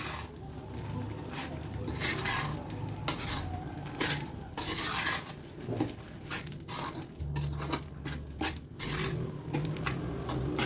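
Grated dry coconut is stirred in a pan with the gas turned off while methi laddu are being made. A spatula makes repeated, irregular scraping strokes against the pan over a soft, fading sizzle, close and moderately loud.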